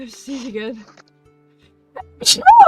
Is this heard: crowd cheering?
no